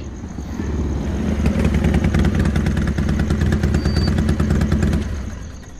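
A motorcycle engine idles on an empty road with a steady, close, throbbing rumble that runs for several seconds and then eases off.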